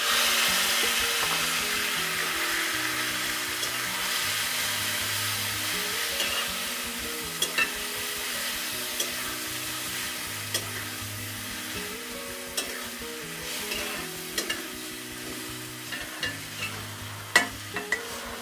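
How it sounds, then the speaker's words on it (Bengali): Boiled raw papaya frying with browned onions and green chillies in a pan, a continuous close sizzle with a soft low hum beneath and occasional light clicks of a spoon stirring, steady throughout without any talking. "পেঁয়াজগুলো লালচে হয়ে এসেছে, এখন আমি এর মধ্যে সেদ্ধ করা পেঁপেটা দিয়ে দিব।"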